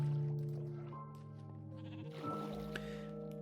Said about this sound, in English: we're gonna find out where those sheep are